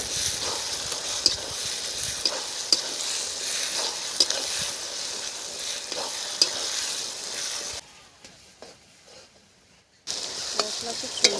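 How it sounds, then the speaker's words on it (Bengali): Ginger paste and spices fry in a pan with a loud, close, continuous sizzle and regular stirring scrapes. The sound drops out briefly for a couple of seconds near the end, then resumes. "মশলা খুব সুন্দর করে ভেজে নিয়েছি।"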